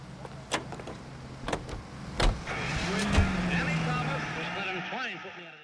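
Car engine hum while driving in the 1940s Los Angeles crime game L.A. Noire, a steady low drone with a few door and mechanical clunks early on, then a whining pitch sweep near the end.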